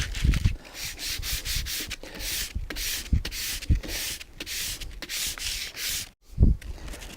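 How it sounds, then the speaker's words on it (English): Sandpaper wrapped around a scraper rubs back and forth across a ski base in quick, close, rhythmic strokes, a dry rasping scrape with brief pauses and no talk. "then take your sandpaper and wrap it around your scraper if you'd like."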